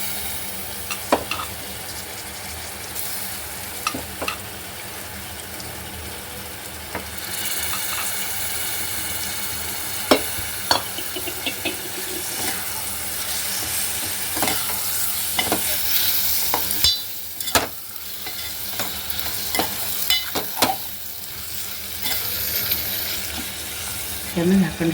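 Prawns fry in masala with a steady soft sizzle, while a spoon stirs and scrapes the pan in irregular clicks and knocks throughout.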